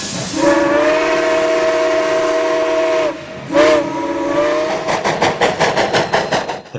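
A Yreka Western Railroad mixed train, with empty bulkhead flats coupled ahead of the excursion cars, sounds a loud steam whistle in two long blasts, followed by rhythmic chuffing exhaust that builds as it gets under way.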